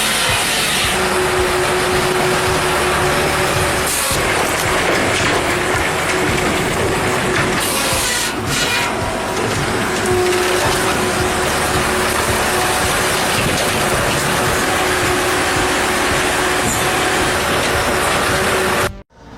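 A Bell 8000 circular-saw wood processor with a 12.5 horsepower engine cuts logs into firewood. Its loud, continuous mechanical roar and clatter run throughout, with occasional harsher bursts, before cutting off abruptly at the end.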